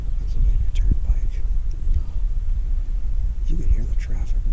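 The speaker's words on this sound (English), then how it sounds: "The highway, you could hear we're already like a mile from the Pennsylvania Turnpike." Traffic on the Pennsylvania Turnpike, about a mile off through forest, makes a low, steady rumble that sits faint and continuous beneath soft, breathy background noise.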